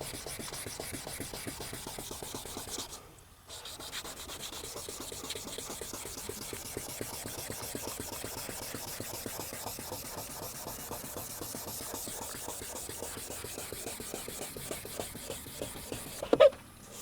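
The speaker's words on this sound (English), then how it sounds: "You want to sand until this yellow stuff stops coming off." A yellowed plastic G35 headlight lens is wet sanded by hand, giving a quiet, steady rhythmic scrubbing rasp with one short pause early on and a brief knock near the end.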